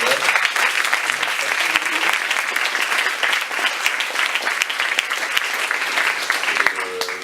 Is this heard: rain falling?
no